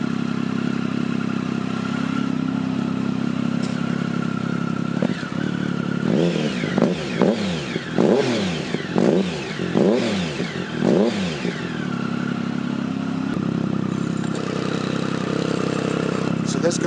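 A 2008 Triumph Tiger motorcycle engine runs at idle with a steady low rumble, broken midway by a series of sharp blips and revs that rise and fall, close to the microphone.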